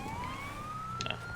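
A police car siren wails in GTA 5 roleplay during a law-enforcement hostage scene. The single tone rises slowly and plays fairly faint and steady, with a couple of brief clicks near the end and no talk.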